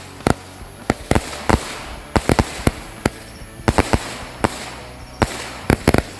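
Firecrackers and fireworks set off during Ramadan, a series of sharp, loud bangs at irregular intervals, some in quick doubles and triples, each ringing briefly over a background hiss, with no talk.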